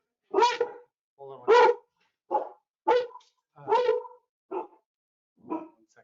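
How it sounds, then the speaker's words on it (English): Pet dog barking repeatedly indoors, eight or so sharp barks in an irregular run, fairly close, with a brief spoken word among them. "that's my dog."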